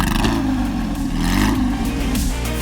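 A Porsche engine revs hard and loud up close, a dense rising and falling mechanical roar that continues steadily throughout.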